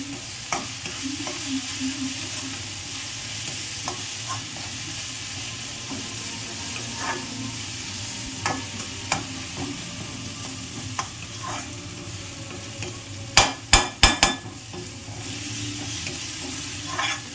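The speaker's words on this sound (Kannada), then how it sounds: "ಚೆನ್ನಾಗಿ ಫ್ರೈ ಆಗಬೇಕು." Food frying and being stirred in oil in a pan, close up: a steady sizzle runs throughout, with scraping stir strokes and a brief cluster of sharp clatters near the end, no talking.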